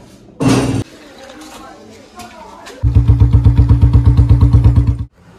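A Royal Enfield Bullet motorcycle engine runs with a steady, rapid thumping beat, loud and close, after a brief metallic clatter and some quiet talk.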